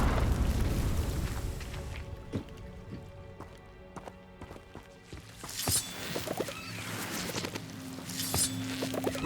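Confringo blasting spell from the video game Hogwarts Legacy, with scattered booming explosions and sharp bursts over a low game backdrop, a louder blast arriving near the end.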